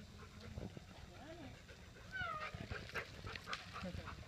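A playful dog panting and giving short yips and squeaky whimpers in bursts, heard close up, with a person talking in the background.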